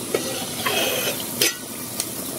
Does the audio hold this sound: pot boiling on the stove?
yes